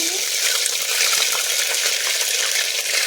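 Ginger-garlic paste fries in oil with fenugreek for a jackfruit curry, making a constant close, even sizzle with light crackles and small clinks, with no talking.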